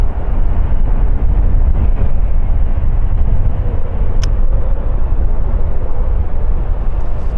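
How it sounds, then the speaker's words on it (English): Airliner jet engines spooling up for a departure from runway 36L at Amsterdam Schiphol Airport, a loud, steady broadband roar that holds without letup. "Oh, the next plane is already spooling up"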